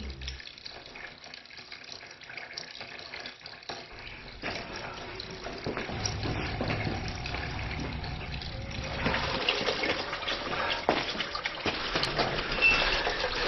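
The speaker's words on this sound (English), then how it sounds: "Somebody leave the faucet running?" Water runs steadily from a faucet, a continuous hiss and splash that grows slightly louder and fuller toward the end, with no talking over it.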